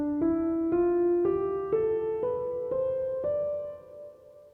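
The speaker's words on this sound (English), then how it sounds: "So without further ado, let's move on to the Dorian scale." A Dorian scale melody climbs in six evenly spaced sustained notes over a soft atmospheric root-note drone, clear and moderately quiet with no voices.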